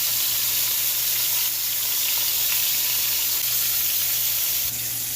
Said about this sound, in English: And let that bad boy fry,